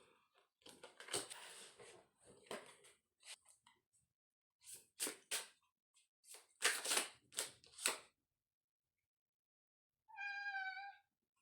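After several seconds of rustling and handling noises, a cat gives one clear, drawn-out meow near the end, close and distinct.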